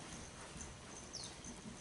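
Horse hooves clip-clopping at a steady gait, a faint, continuous rhythmic patter set against a soft background hiss with no talk.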